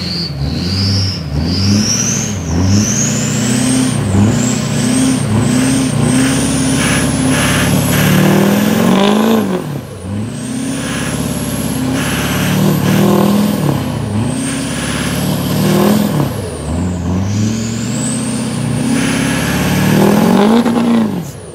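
A diesel Chevy truck revs hard while rolling coal, its engine climbing and dropping in repeated long surges with a rising whine, loud and close throughout.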